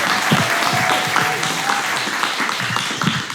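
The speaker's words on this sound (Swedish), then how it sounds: "Johannes Bränning ger en varm applåd till." A comedy-show crowd gives a comedian dense, continuous applause that is loud and close, with a few faint voices and shouts mixed into the clapping.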